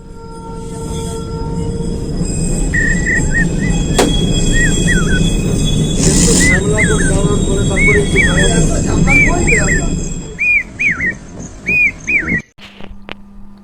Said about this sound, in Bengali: এখন আমাদের টয় ট্রেন এসে পৌঁছেছে যে স্টেশনে